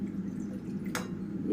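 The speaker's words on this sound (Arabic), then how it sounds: "نجيب فيها شويه ميه صغيرين." A small amount of water poured into a bowl in a home kitchen while preparing crispy chicken strips, a single brief splash over a low room background.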